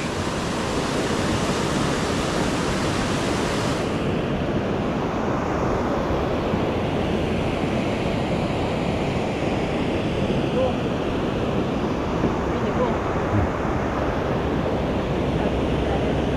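Rushing water roars steadily through Clarendon Gorge in Vermont, a dense, continuous wash of whitewater noise close by, with wind buffeting the microphone and no words spoken.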